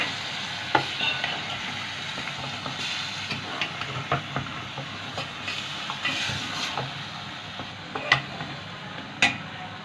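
Tomato paste and spring onion fry for chicken karahi, a low continuous sizzle under repeated light taps and scrapes of a spatula against the pan, close and moderately quiet, with no talking.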